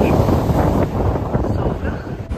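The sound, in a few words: wind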